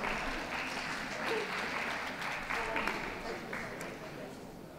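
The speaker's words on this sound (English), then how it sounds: "Come on, round of applause." Audience at a dog show applauding a Bolognese in the toy group, a dense steady patter of many hands clapping, fairly distant in a large hall, with faint murmur underneath.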